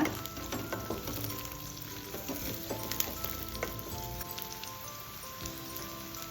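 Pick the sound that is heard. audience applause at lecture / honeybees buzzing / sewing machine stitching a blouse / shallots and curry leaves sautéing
shallots and curry leaves sautéing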